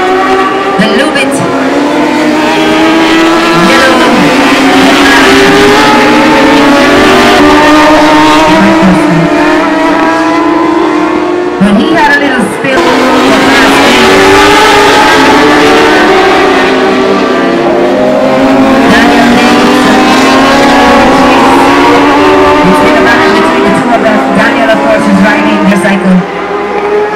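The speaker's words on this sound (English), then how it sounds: "Pulls away from him on the Ducati" A Ducati motorcycle racing on a drag strip, its engine a loud continuous roar that climbs as it pulls away, blended with crowd and venue noise, with an announcer talking throughout.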